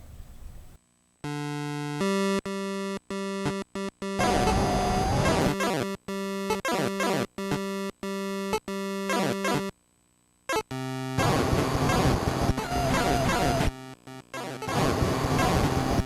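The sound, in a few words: music from NES video game Chiller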